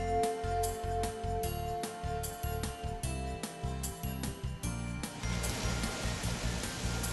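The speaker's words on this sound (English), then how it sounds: "That sounds like rain." Steady rain in a rainforest comes in as a dense hiss partway through, replacing a rhythmic music bed that plays underneath.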